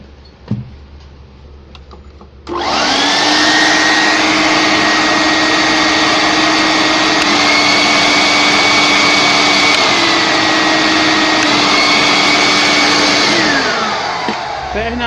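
Two-speed electric vacuum cleaner switched on after a click, its motor spinning up into a loud, steady whine that holds for about twelve seconds, shifts pitch partway through, and then begins to wind down.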